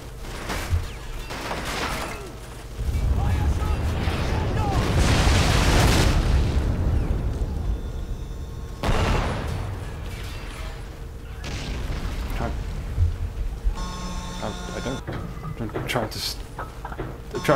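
Rumbling explosions and bursts of gunfire in Men of War: Assault Squad during a mixed 4v4 battle, a heavy sustained barrage early on, then scattered booms and pops, with voices talking over the fighting.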